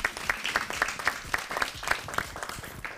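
An audience claps for a ten-year-old boy in a studio show, a modest, fairly sparse patter of hands with distinct individual claps, fairly close, no talk over it.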